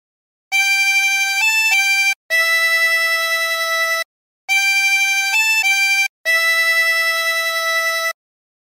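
Silent Night played on a 20-hole tremolo harmonica, heard as four sustained, reedy phrases of held notes with short pauses between them, close and clear with no one talking.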